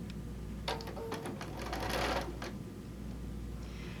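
A sewing machine runs a short burst along a quilt seam, a rapid mechanical clatter of stitches lasting about two seconds against a low steady hum.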